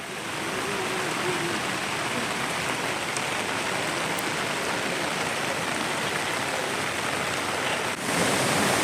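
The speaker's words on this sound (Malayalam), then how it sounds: "ഇവിടെ കനത്ത മഴ പെയ്യുന്നതിനാൽ വലിയ കുത്തൊഴുക്കാണ് താഴേക്കുള്ളത്" Heavy rain pours down in a dense, unbroken roar at a landslide disaster site in Wayanad, loud and steady throughout with no voices.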